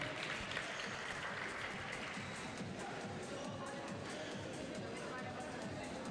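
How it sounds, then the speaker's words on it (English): A crowd applauds the two finalists after a European squash championship final. The clapping is steady and fairly faint, with crowd chatter and murmuring mixed in throughout. "Can we have a round of applause for Auguste Dussourd and Victor Crouin."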